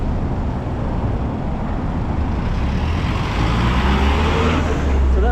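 Steady roadway traffic rolls past beside Lotus Flower Road on the edge of the Cotai casino strip in Macau, a continuous low rumble of cars, trucks and buses that swells louder toward the end as vehicles pass close.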